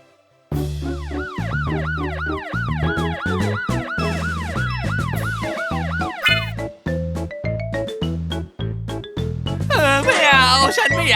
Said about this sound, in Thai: วีวอวีวอช่างแสนดี รถตำรวจ